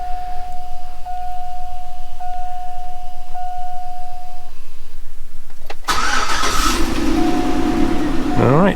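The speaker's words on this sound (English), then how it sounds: "let's see now if I fire up the engine" A steady warning chime repeats, then a 2008 Hummer H3 Alpha engine with a P0449 fault code cranks, catches loudly and settles into a rumbling idle.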